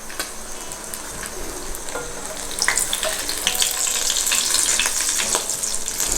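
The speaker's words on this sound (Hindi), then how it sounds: "इसी तरह हम अपने सारे शामी फ्राई करेंगे।" Potato and egg shami kebabs shallow fry in hot oil, a steady close sizzle that swells louder halfway through, with light crackles and the odd scrape of a utensil.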